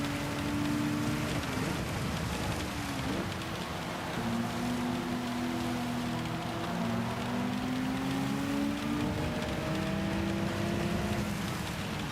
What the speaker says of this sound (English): it was supposed to be raining on the middle of this race, not the beginning.